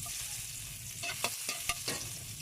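Garlic sautéing in a little hot oil for a Filipino sinigang, a steady close sizzle broken by a few sharp scraping stirs of the pan, with no talking.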